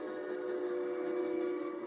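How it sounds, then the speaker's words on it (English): A train passing in the distance, its whistle or horn held as a steady droning tone throughout, faint and far away with no one speaking. "It's a train."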